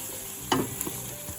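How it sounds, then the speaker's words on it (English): Tomatoes for apple curry fry in a pan with a soft continuous sizzle, broken by a brief stir and scrape of a spoon, close and fairly quiet. "And then let them fry for a minute or two."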